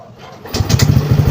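A Honda MiO scooter's engine catches on the push starter and settles into a steady, fairly loud idle after a brief cranking whir.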